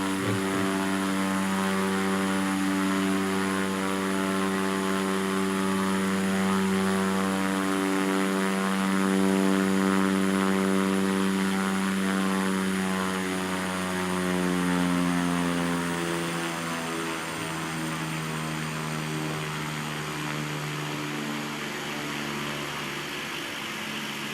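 A propeller airplane accelerates down the runway on takeoff, its steady engine drone holding loud and close for the whole stretch with the pitch slowly shifting, no voices present.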